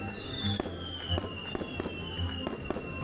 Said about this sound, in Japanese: ショーの終わりにはなんと花火